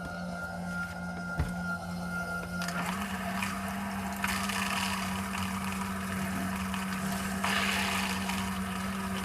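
Plumbing on a Suburban IW60RL on-demand water heater gurgles and hisses softly as trapped air works out of the hot line, with a low steady hum and a few irregular surges; no talk.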